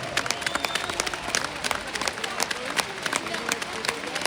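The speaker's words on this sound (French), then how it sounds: "un tonnerre d'applaudissements" Arena audience clapping at a pole vault meeting in Tremblay, a steady patter of many hands heard from a distance with a faint murmur of the crowd beneath.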